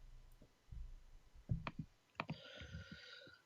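Computer keyboard typing during an online conversation: a few sparse clicks and key taps, close and fairly quiet, without speech over them.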